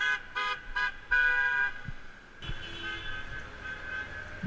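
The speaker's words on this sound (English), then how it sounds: "A lot of honking." Car horns honk near a street, first in short repeated toots, then one long sustained blast, over the low rush of passing traffic.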